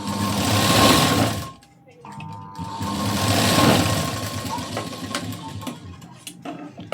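Domestic sewing machine stitching a strip onto a garment's round front neckline, running in two steady bursts with a brief pause between, while someone talks over it.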